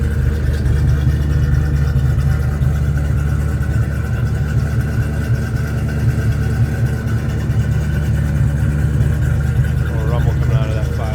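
A 1984 Ford Mustang GT hatchback with a 5.0 V8 idles steadily, giving a deep, even low rumble that stays loud and unchanging throughout with no revving.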